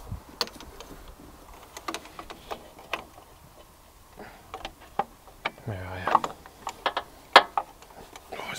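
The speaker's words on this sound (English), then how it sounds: "Now I just gotta hope I can undo it with this little quarter inch ratchet." A small quarter-inch ratchet with a short extension and deep socket works loose a tight nut on an air conditioning pipe of a 4.4 TDV8 L322 Range Rover, giving scattered quiet clicks and metallic taps close by, with a brief rattling burst partway through.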